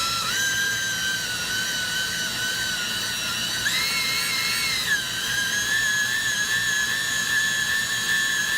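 A valve guide cutter cuts a new seal taper on a 455 Oldsmobile cylinder head, a steady high-pitched whine that rises in pitch briefly midway, then settles back, continuous and close with no talking.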